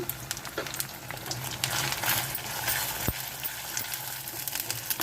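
A spoonful of chili powder goes into egg biryani masala frying with ginger paste in a pan. A steady sizzle and crackle continues throughout, with a few light metallic clinks of the spoon.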